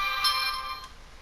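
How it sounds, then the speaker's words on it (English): A phone ringtone plays as a short electronic tone with a bright sustained chime, heard alone and fairly loud for about a second before cutting off. "And my phone just went off."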